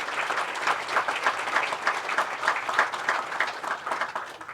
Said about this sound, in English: Let's give them a round of applause for all the things they've done here too.